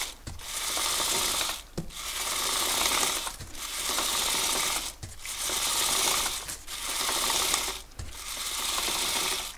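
A motorcycle chain is turned by hand through a Kettenmax chain cleaner, making a continuous close mechanical rattling and whirring in long rhythmic runs. Brief pauses fall roughly every one and a half seconds between runs.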